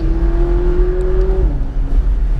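Heard from inside a McLaren 570S Spider in sport mode, the engine drones loudly at a steady pitch, then drops sharply in tone as the gearbox makes a quick, crisp shift.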